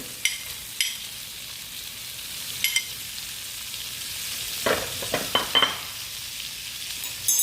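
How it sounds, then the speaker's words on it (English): Shrimp sizzle in a pan for a scampi dish, a steady hiss up close, broken by a few sharp scrapes and clinks of a utensil against the pan, clustered toward the middle. "we're going to take some of our shrimp and we're going to get these cooking"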